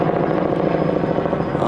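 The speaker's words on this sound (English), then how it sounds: "Seems to be all kinds of helicopter activity going on today." A helicopter flies overhead, its steady broadband rotor and engine roar filling the whole stretch at a constant, fairly loud level.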